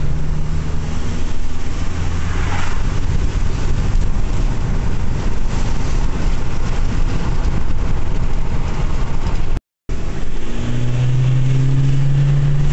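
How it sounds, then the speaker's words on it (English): A Ford Transit MK8 van with a particulate filter soot restriction fault drones along on a test drive, its engine and road noise loud and continuous except for one brief dropout near the end, with no speech. "Just taking it for a test drive."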